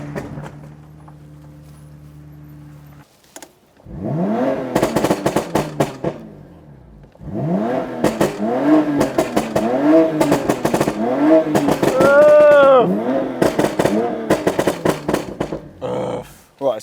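A modified BMW M2 CS on semi-slick tyres revs hard in rising, repeated bursts as the wheels spin up, the engine roaring close and loud after a quieter idle opening.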